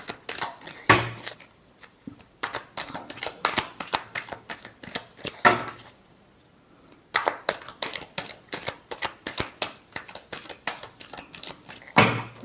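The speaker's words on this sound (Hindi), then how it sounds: "last shuffle" Playing cards are shuffled close up for a tarot-style reading, bursts of quick crisp riffles and snapping flicks separated by short quiet pauses, with no voices.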